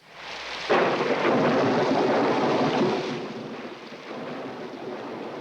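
Thunder breaking out in a rainstorm: a sudden loud, broad rumbling roar that swells in, holds for a couple of seconds, then eases into a steady wash of rain and wind, with no voices.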